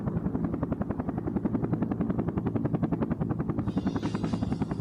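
Steady rapid rotor chop of a helicopter in the video game Air Conflicts: Vietnam, loud and continuous with an even pulsing rhythm, no speech over it.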